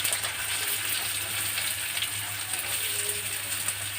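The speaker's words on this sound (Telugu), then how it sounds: "వేసి ఇది కాగిన తర్వాత ఉల్లిపాయలు వేసేస్తున్నాను." Onions frying in hot oil in a home kitchen on a terrace, giving a steady, even sizzle with a faint crackle throughout, close by, with no talking.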